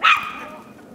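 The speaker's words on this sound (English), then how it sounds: "Yeah, she's just barking, and Tegan's very gentle with her." A dog gives one short, high bark right at the start, followed by a fading ring in a quiet indoor room.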